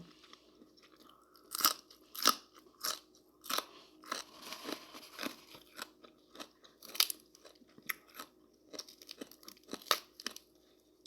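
Crunchy pork rinds being bitten and chewed up close, with a series of sharp, crackling crunches that come in irregular bursts over quiet gaps.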